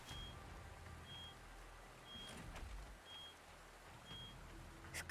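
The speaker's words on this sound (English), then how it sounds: "I hate how the beeping sounds like my fire smoke detector thing." Evenly spaced electronic beeps, about once per second, from the Girls Frontline video game, steady and moderately clear over a low background rumble with no talking.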